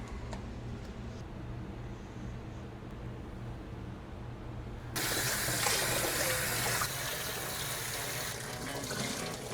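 Water running from a tap in an Airbnb kitchen setup, a continuous rushing stream that grows noticeably louder and brighter partway through, steady and close with no talk.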